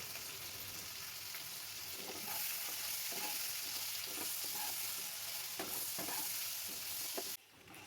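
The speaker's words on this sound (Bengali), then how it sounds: "এবার টুকরো করে রাখা আলুগুলোকে দিয়ে দিলাম। ভালো করে ভেজে নেব।" Potato pieces for a vegetarian jackfruit curry fry in oil with a soft, even sizzle, while repeated spatula stirs scrape through at a gentle rhythm. The pan sounds close but fairly quiet, with no voices.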